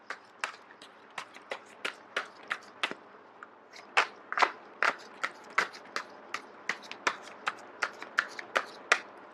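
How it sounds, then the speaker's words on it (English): A deck of cards is shuffled for a card reading, with a long run of sharp, crisp riffling snaps at a quick, uneven rhythm, close and clear with no talking. "I am going to shuffle until the first card drops out."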